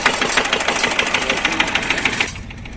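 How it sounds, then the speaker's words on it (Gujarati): A tractor engine running steadily nearby with an even, knocking mechanical throb, ending abruptly near the end; voices talk over it at times. "હા, આવી ગયું ટ્રેક્ટર."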